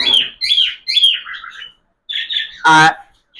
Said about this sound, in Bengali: এই পাখিগুলো এগুলো সব সেমি অ্যাডাল পাখি